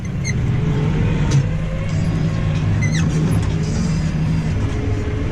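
Seven farm tractors work a field together, pulling cultivators one behind another in the old style; a steady, dense engine drone fills the whole stretch with no talk over it.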